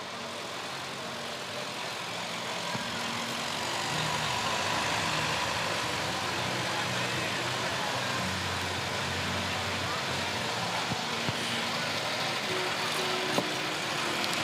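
A 1943 Ferguson tractor's engine runs at a steady idle at a county fair, a continuous low rumble that holds throughout while voices and announcements carry on over it.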